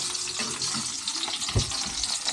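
Onions browning in a pan make a steady sizzle, with stirring and a louder clatter near the end; no one speaks.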